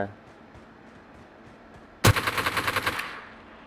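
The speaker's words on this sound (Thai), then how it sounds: "ทำไมปืนชอบลั่นวะ" Burst of automatic gunfire from a gun in the mobile shooter PUBG Mobile, starting abruptly and rattling in rapid rhythmic shots for about a second, loud against a quiet background.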